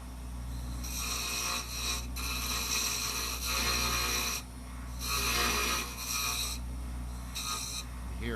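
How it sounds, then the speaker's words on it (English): A wood-turning lathe with a scraping tool shaping the handle of a 12-inch longtail oblique pen holder, giving steady raspy scraping in repeated bursts of a second or two with brief pauses, close and fairly loud. "Here I scrape to start the general shape of the handle."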